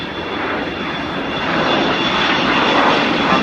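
An Avro Vulcan jet bomber makes a slow flypast at Farnborough Airshow, a loud, broad engine roar that builds steadily as it passes, with no voices.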